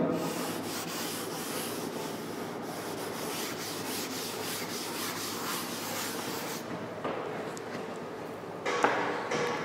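Steady dry rubbing of a duster or cloth across a written classroom board, continuous scratchy strokes at close range, with a few short knocks near the end.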